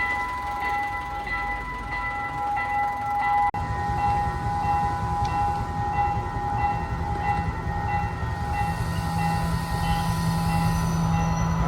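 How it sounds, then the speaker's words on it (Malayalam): A train rumbles steadily past on the rails in Sri Lanka, loud and close, with a constant low roar and high metallic squealing tones from the wheels throughout. "ട്രെയിൻ വരുന്നുണ്ട്"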